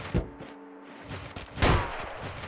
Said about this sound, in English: Ooh, I hear somebody taking shots over there